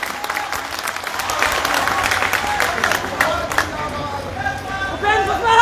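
Audience at a political rally applauding with steady crowd clapping and cheering, sustained and fairly loud throughout with babble mixed in.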